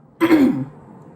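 A single short throat clearing, close and fairly loud, lasting under half a second before fading into quiet.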